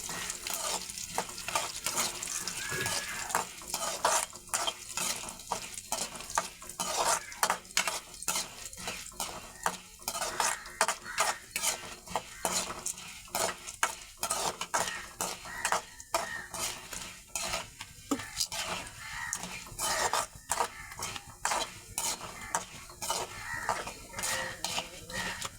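Urad dal, coriander seeds and cumin dry-roasting in a pan for a dried red chilli chutney, with a constant dry rattling scrape as a spoon stirs them, close and busy, alone without speech.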